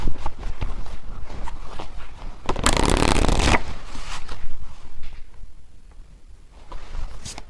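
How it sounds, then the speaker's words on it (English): A burst of tarot cards being shuffled by hand rustles loudly for about a second amid quieter handling and tapping noises, close up and without talk. "Okay, I just shuffled these"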